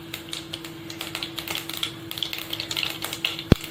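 Mustard seeds crackle in a few spoonfuls of hot oil, a dense run of sharp, close pops and ticks over a faint hum, with one louder knock near the end.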